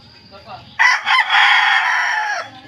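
A young stag gamecock kept in a backyard crows loudly and close by, delivering one long strained call after a few soft clucks, with nothing else in the background.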